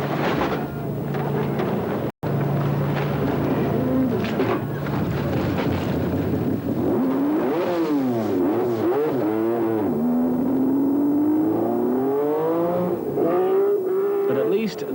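A works Metro rally car on the 1986 Scottish Rally fires up and runs, its engine note rising and sweeping in pitch over a steady wind-blown rumble, loud and close, with a commentator's voice talking over it.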